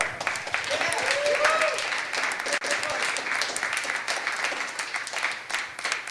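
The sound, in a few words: audience applause at Bitcoin Summit panel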